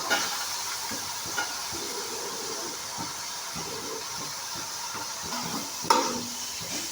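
Onions sautéing in a pan for Kerala-style chicken curry, a continuous hissing sizzle with faint rhythmic stirring scrapes and a sharper knock near the end.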